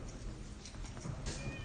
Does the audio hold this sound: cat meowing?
yes